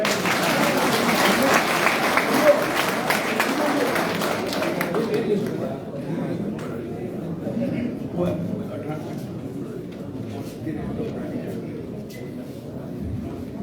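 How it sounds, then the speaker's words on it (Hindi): Audience applause at a Uttarakhand community gathering, a broad wash of clapping that swells loudly in the first five seconds, then thins to scattered, quieter clapping under crowd murmur and talk. "ताली तो बजा दो।"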